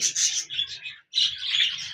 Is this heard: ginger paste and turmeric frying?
no